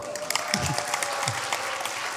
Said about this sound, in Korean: 박수 치려면 치고 말려면 말지.